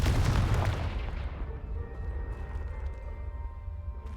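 A Confringo spell explosion in the Hogwarts Legacy video game, cast on a pile of debris blocking a stairwell, lands as a single loud, deep blast that decays into a long fading rumble and lingering tones.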